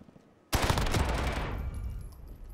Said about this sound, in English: My gun is super loud in this cave.